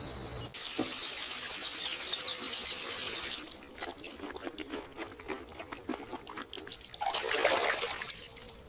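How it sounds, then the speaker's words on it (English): Water swishing and splashing as a mouth is rinsed after brushing teeth, a steady close wet rush that breaks into scattered drips and splashes, then a final brief surge of running water. "I rinse my mouth."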